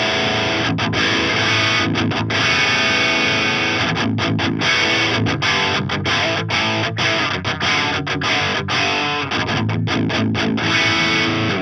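Electric guitar playing a metal tone through the Audio Assault Amp Locker amp sim, loud and heavily distorted with sustained chugging chords broken by rhythmic palm-muted stops and gaps, continuous for over ten seconds.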